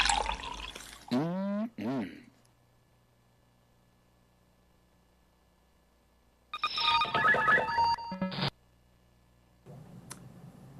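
Telephone ringing in bursts, a loud electronic ring heard twice with a pause between, followed by a short burst of dripping water.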